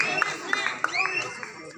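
Spectators clap in scattered bursts at a kabaddi match between Siddheshwar Veldur and Truptinagar Adur. A few sharp claps stand out over a steady crowd murmur and commentary.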